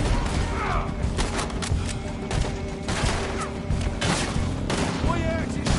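Rapid, overlapping gunfire from a Red Dead Redemption shootout, with dense shots and booming reports packed close together across the whole stretch while voices talk over the fighting.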